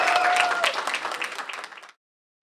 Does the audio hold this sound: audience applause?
yes